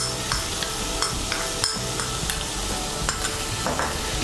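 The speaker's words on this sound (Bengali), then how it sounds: "সমস্ত উপকরণগুলো ভালো করে মিশিয়ে নিয়ে আমি মশলাটাকে ভালো করে কষিয়ে নেব" Spiced paste of ground coriander and other powdered spices fries and sizzles in a pan while being stirred, with steady scraping strokes recurring roughly every half second over a continuous close, bright sizzle, with no voices.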